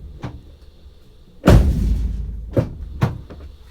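A Toyota FJ Cruiser door, tested after headliner removal, shuts with one heavy, solid slam that rings briefly. Two lighter knocks follow, with a faint tap just before the main close, recorded from inside the cabin.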